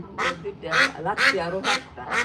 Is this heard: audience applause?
no